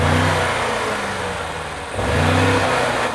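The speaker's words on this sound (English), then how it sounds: "Give it some revs." A BMW M5 CS engine revs up hard, holds a high steady whine, dips briefly, then surges again, loud and close with no talking.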